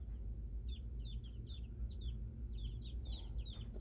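Week-old chicks in a new brooder room keep up a steady chorus of high peeping and soft clucks, many birds chirping at once over a constant low hum of fans or heaters, faint and continuous.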